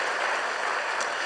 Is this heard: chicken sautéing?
no